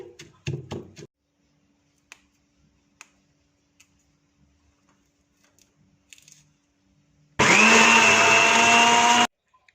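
Kitchen blender grinding mango and mint chutney, a loud steady whirring roar lasting about two seconds, preceded by soft clicks and taps of the jar.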